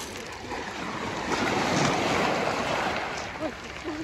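Broad rushing wash of Black Sea surf on the shore at Lazarevskoye, Sochi, swelling and fading across a few seconds, with wind buffeting the microphone and a brief voice near the end.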